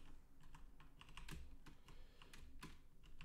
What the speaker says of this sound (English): I got my old mechanical keyboard on